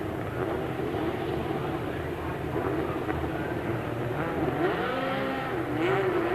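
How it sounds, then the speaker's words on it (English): British Touring Cars roll into position on the Silverstone grid in 2003, a steady blend of idling and revving engines with a rising note near the end, heard under a commentator's voice. "The last cars moving into position on the grid here at Silverstone"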